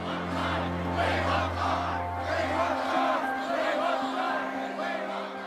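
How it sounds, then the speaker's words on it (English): Crowds chanting outside Buckingham Palace for a glimpse of the bride at the royal wedding of Charles and Diana, a dense roar of many distant voices rising and falling steadily, with a low hum fading out partway. "Outside, the crowds had started to chant for a glimpse of the bride."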